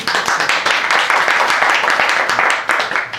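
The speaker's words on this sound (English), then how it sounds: "Give him a big applause for him." Steady applause from a crowd, dense and continuous clapping at an even level throughout, fading slightly at the end.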